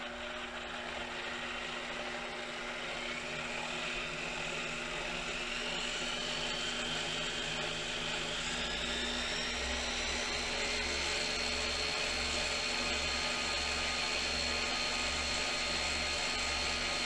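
The spindle of a G0704 milling machine runs in high gear at about 4,200 RPM, giving a steady, continuous motor whine and hum whose pitch rises slightly, heard close and uninterrupted.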